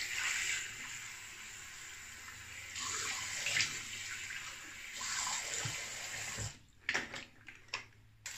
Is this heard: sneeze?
no